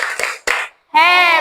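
Children in a classroom doing a thumb-clapping game, two sharp claps followed by a pause, then voices chanting together.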